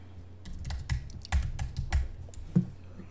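Fingers type on a computer keyboard, entering a name in an Office 365 installer setup, with irregular bursts of close, crisp key clicks and a few heavier thumps over roughly three seconds, with no voices.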